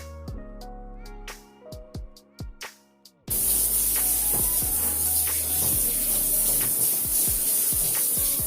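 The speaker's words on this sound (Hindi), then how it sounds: "मैं स्प्रे सारे वॉल पे दोनों स्प्रेज के साथ स्प्रे कर दूँगी" Cleaning spray hitting bathroom walls: a dense, loud, continuous hiss begins a few seconds in and runs to the end over soft background music.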